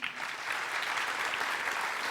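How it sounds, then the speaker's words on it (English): A conference audience at a security convention's closing remarks gives a short round of scattered, moderately quiet clapping. "clap for them"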